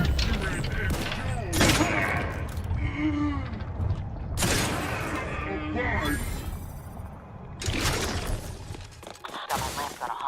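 Rapid bursts of enemy gunfire in the video game The Outer Worlds 2, repeated volleys and crackling shots in a busy combat mix, with a person talking over them.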